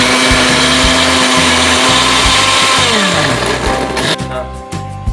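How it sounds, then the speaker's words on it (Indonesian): A kitchen blender purees pineapple: a loud, close motor whir with a rhythmic churning pulse, then the pitch drops and the motor slows as it winds down near the end. No one speaks. "Pertama-tama kita blender dulu nanas guys."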